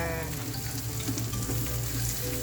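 Garlic and onion sauté in a pan for carabao caldereta, a dense steady frying hiss with a low hum underneath, close and constant throughout.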